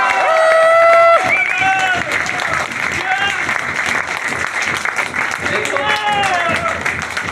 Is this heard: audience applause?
yes